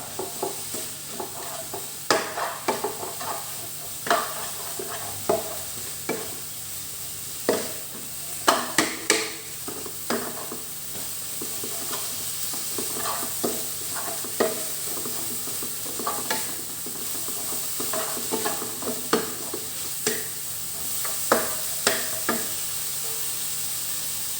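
Wild pak wan shoots are stir-fried with egg in a pan, giving a constant close sizzle. Frequent clacking spatula strokes scrape and knock against the pan in an irregular rhythm throughout, with no talking.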